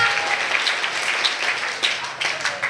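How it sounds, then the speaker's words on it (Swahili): Church congregation applauding during a testimony service, steady crowded clapping with a few whoops mixed in, loud and continuous throughout. "Pigia Bwana Yesu makofi. Celebrate Jesus."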